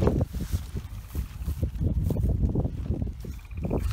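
Outdoor wind gusting against the microphone on a windy day during ultralight one-person tent setup, a continuous low rumbling buffet that swells and dips, with clattering and movement sounds over it.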